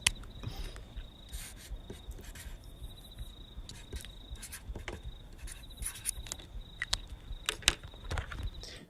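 An insect, likely a grasshopper, chirps steadily at a single high pitch through the quiet, joined by soft scattered rustles and taps close by.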